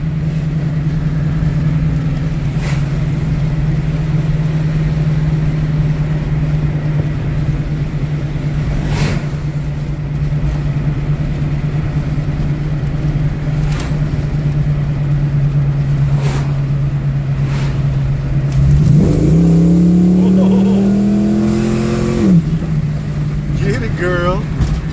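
A 1988 GT old car engine idling with a steady low hum, then revving up in a rising sweep near the end before settling back. Faint taps sound now and then, and a person talks over it at points.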